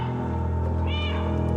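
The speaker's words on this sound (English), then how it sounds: "Right now, we're back in engine, so you can hear me meowing." A cat meows in the video game Stray, one short tonal call rising over a steady, dense bed of game music and ambience.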